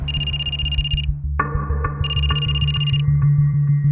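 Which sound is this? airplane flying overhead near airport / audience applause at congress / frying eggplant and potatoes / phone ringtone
phone ringtone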